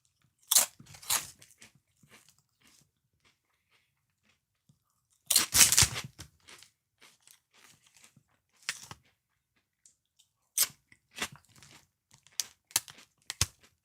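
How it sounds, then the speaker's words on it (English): Loud, close crunching of a snack being eaten comes in irregular bursts of bites and chewing, separated by near-silent pauses. "Can you hear me crunching on these?"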